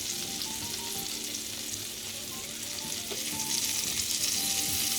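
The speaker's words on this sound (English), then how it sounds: "So I'm putting my garlic in there." Garlic fries in a pan for salt and pepper chicken wings, giving a steady, even sizzle that holds at the same level throughout with no voices.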